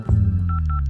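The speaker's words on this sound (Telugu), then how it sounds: "ఇప్పుడే ఫోన్ చేస్తాను ఉండండి" A phone number is dialed on a telephone, producing a quick run of five or six touch-tone beeps over a steady low hum.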